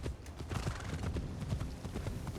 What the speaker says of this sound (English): galloping around the area